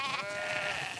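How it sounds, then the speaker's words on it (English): A single sheep bleats in The Last of Us Part 2 video game, one close, drawn-out wavering call lasting about a second with no speech. "We definitely have way too many sheep."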